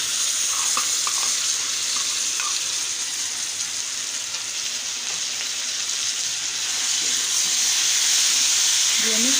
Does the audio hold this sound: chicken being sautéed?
yes